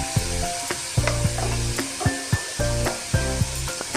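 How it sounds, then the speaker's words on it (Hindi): Chicken and potato kebabs fry in a pan with a loud steady sizzle, while repeated knocks and scrapes of a utensil stirring or turning them sound close by. "हमने इसको हल्का सा फ्राई करना है।"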